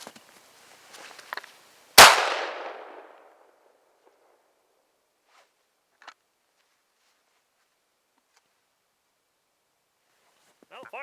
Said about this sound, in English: first shot with the Dominion Arms backpacker, 12 gauge